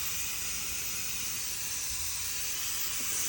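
A steady, thin hiss of escaping steam from a nearly empty Karcher SC1 EasyFix steam cleaner, fairly faint and unchanging throughout, with no voices.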